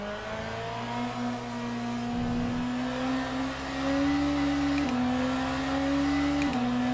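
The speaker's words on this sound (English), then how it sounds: "this car sounds nice" An Alpine hypercar engine in Le Mans Ultimate drones at a steady, fairly flat pitch with a smooth hum. Brief gear-change dips break it twice, and it stays loud and close with no talk.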